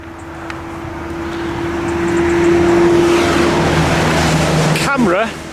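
A car sweeps past outside hospital gates at night, rising from a distant hum to a loud close pass and fading, followed by a brief high squeaky noise at the end.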